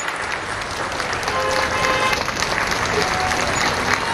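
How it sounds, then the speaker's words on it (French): Audience at the Terre des Bantous 2023 festival applauding for the NGO Génération Ekan, a dense, steady wash of clapping and crowd noise that swells slightly and holds throughout, with some voices mixed in. "Applaudissements pour l'ONG Génération Ekan, s'il vous plaît."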